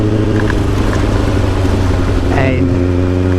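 A Kawasaki ZX7R motorcycle engine runs loud and steady, recorded close to the exhaust, with a deep, continuous droning rumble and a brief rising throttle blip partway through.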